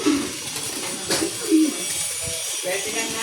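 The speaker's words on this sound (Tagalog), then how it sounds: "Dito na mga kalapatids, Pretty Boy." A racing pigeon gives low, soft coos in short bursts, close by, while a person talks over it outdoors.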